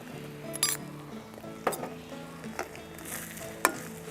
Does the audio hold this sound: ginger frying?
yes